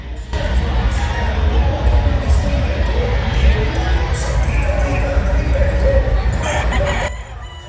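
Roosters crow over the steady din of a noisy crowd, loud and continuous, at a busy gamefowl expo.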